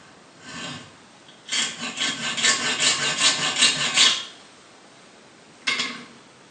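Hand saw blade, getting blunt, cutting metal for a model steam locomotive part: a steady rhythmic rasping of back-and-forth strokes for a few seconds, preceded and followed by short single scrapes, close and clear.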